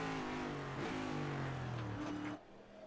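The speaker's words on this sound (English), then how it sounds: "Sounds crazy hearing them change gear so quickly, doesn't it?" Next Gen NASCAR cars in a racing game at New Hampshire roar past close and loud, engine pitch stepping through rapid gear changes before the sound drops off sharply near the end.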